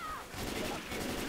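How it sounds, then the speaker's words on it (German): Rapid automatic gunfire from an AK rifle in the zombie shooter Left 4 Dead 2, a dense continuous rattle of shots with faint voices mixed in. "Schießt wieder wild um mich."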